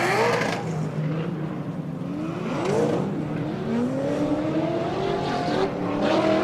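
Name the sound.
drift car burnout, tires squealing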